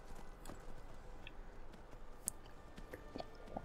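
Horse hooves clip-clop in a steady rhythm while riding in the video game Skyrim, under a constant ambient bed with a few sharper clicks near the end.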